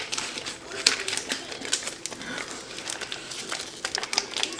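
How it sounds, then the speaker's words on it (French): A chocolate bar's wrapper is torn and pulled open up close, giving sharp, irregular crinkles and crackles that come in bursts. "je suis capable d'ouvrir une barre de chocolat"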